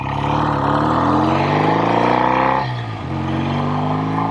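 A 1965 BSA Thunderbolt 650 twin motorcycle engine roars steadily up close while being ridden, revs rising then dipping briefly as the rider shifts before pulling strongly again.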